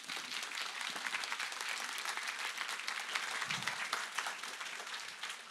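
Sustained, dense applause from a conference audience after a talk on digitizing the public sector, steady and loud throughout with no letup.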